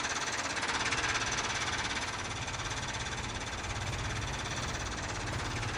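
Engine of a vintage Farmall tractor in a farming video game, a steady rapid knocking chug running continuously at an even level throughout, with no talk.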